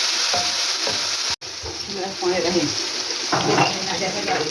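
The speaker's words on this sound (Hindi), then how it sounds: "अब यहाँ पर जाएगा इसके अंदर 2 टेबल स्पून भर के जिंजर गार्लिक का पेस्ट, और इसको भी हम इसे काफ़ी अच्छे से कुक कर देंगे।" Ginger garlic paste frying with onions for nihari gives a loud, close sizzle and crackle, broken by a sharp click and a brief dropout. A person talks over it in the second half.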